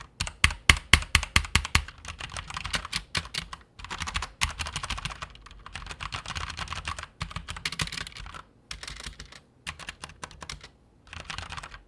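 Steady typing on a Corsair K70 RGB Rapidfire mechanical keyboard with Cherry MX Red switches, quick runs of keystrokes with occasional pauses, close and clear, with no talking.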